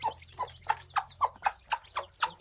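A village hen clucks to call her three small chicks to feed, a run of about nine evenly spaced, close clucks at a quick, steady rhythm with no talk.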